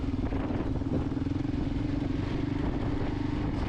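A Kawasaki KLR motorcycle rides on trails, its engine chugging steadily with rattling and clatter from rough ground, close and continuous.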